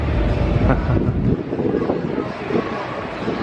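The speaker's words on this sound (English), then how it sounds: "The wind is getting up, so hopefully it's not too windy" Strong wind near London's Emirates Air Line cable car buffets and rumbles continuously, gusting loudly at first and then settling into a steady rush.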